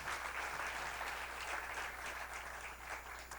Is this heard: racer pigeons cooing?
no